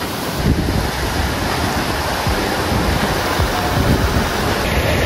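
Water rushes loudly and continuously from a waterfall and stream on the Garbett Plateau trek, with a dense broadband roar and wind buffeting the microphone throughout, and no one speaking.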